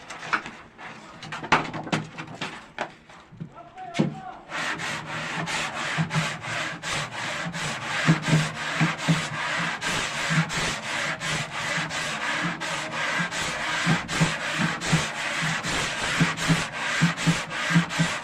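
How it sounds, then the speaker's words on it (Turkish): Wood being sanded by hand, with a steady, close scraping rasp in rapid back-and-forth strokes that runs almost continuously after a few scattered knocks and scuffs at the start. "evet zımparala bakalım şimdi onu sonra görelim"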